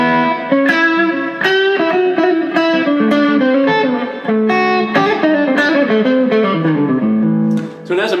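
An electric guitar plays chords and melodic lines with a slightly overdriven, gritty tone and a touch of reverb, loud and close.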